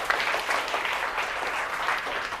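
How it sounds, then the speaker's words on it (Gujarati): Steady applause from a classroom of schoolchildren in a Gujarati lesson, a continuous patter of many small hands clapping at moderate volume for a couple of seconds, with no talking over it. "વેરી ગુડ ભાઈ, જોરદાર તાળીઓ થઈ જાય."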